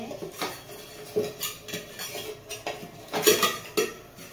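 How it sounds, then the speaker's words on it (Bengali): A metal tiffin box is lifted slowly out of a steaming pot, giving a few scattered metallic clinks and knocks of utensils against the pot, with a couple of louder clanks near the end. "টিফিন বক্সটা বের করব, টিফিন বক্সটা তুলে নেব আস্তে আস্তে"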